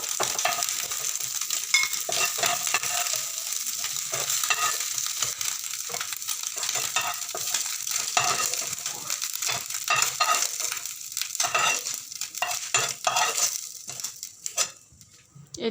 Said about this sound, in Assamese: এয়া চাওক মাছখিনি ধুনীয়াকৈ ভজা হৈ গৈছে।